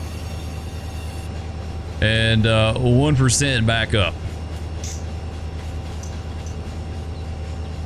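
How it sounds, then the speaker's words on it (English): Horn blast from an empty molten sulfur train in the video game Run 8 Train Simulator, two loud sustained chords over a constant engine rumble, with someone talking at the start. "This train should basically walk up that hill though."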